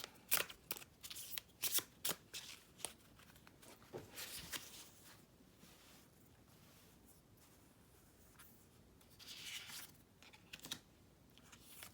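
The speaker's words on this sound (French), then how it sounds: "Je vais tirer une petite carte." Oracle cards from a White Fox Oracle deck shuffled by hand, with a run of quick crisp riffling bursts early on, a quieter stretch, then more card flicks and a draw near the end, close and fairly soft.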